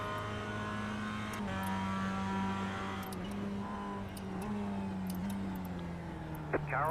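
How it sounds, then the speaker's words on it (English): A faster race car in the iRacing sim sweeps past on the high side at Charlotte, its engine drone holding steady under a second car's tone before fading, with a brief pitch shift as it goes by. "Faster car coming on the high side."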